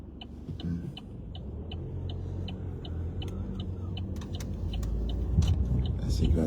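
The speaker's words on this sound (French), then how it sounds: "La circulation ce matin, j'adore la circulation du..." Saturday morning road traffic, a steady low rumble of passing cars that swells toward the end, heard under a nearby voice with faint ticking clicks.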